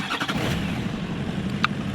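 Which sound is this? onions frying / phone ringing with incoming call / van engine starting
van engine starting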